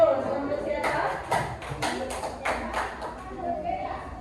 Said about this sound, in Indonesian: Beri aplaus untuk siapa?